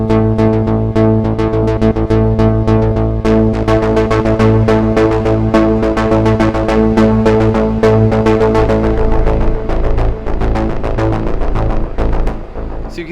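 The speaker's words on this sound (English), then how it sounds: "introductory bass line, and it's more wobbly and more offbeat" A wobbly, offbeat introductory bass line built in FL Studio, loud and throbbing with steady low pulses under rhythmic percussive hits, continuing without pause and cutting off at the end.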